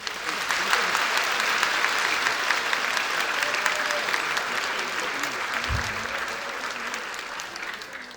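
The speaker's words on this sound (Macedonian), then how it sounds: "Аплауз за сите деца." Sustained audience applause at a children's TV song festival, dense even clapping from a large crowd that holds steady with a faint voice underneath.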